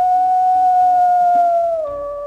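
A wolf howls at a higher pitch in one short, clear, sustained tone that dips slightly at the end, close and prominent with no speech.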